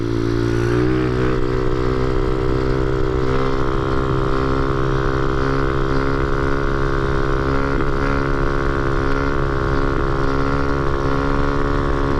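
Motorcycle with worn swing arm bushings and no clutch riding a wheelie in fourth gear at over 60 mph, a loud steady engine drone with wind roar, held at a constant pitch throughout.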